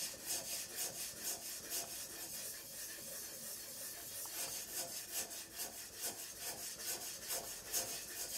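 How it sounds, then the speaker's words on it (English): A hand plane blade is honed on an oiled sharpening stone, producing a faint, rhythmic scraping as it slides back and forth in regular strokes, with no talk over it. "And just do my normal honing routine."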